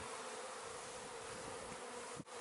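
Honeybees swarm during a hive installation, their continuous, soft, close buzzing hum holding steady throughout with one brief dip near the end.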